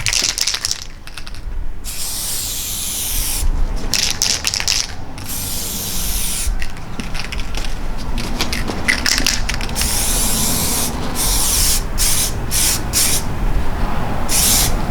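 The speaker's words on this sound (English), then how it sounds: "So let's get this base coat on here now." An airsoft gun gets a base coat from a spray can in close, hissing bursts of varying length, with brief gaps and faint clicks between sprays.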